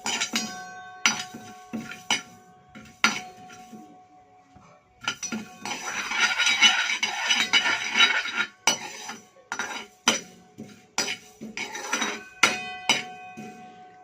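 Fenugreek seeds being stirred and roasted in a metal pan for Godavari-style kura karam. A spoon repeatedly clinks and scrapes against the pan in irregular sharp knocks over a soft rattle of seeds, close and moderately loud.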